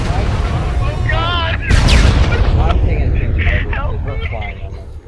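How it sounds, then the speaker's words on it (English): IED blasts and gunfire in combat near a 173rd unit, with a heavy explosion booming through a constant roar of fire and loud shouting voices throughout. "Okay, so there's a lot of explosions going off here. That's an IED."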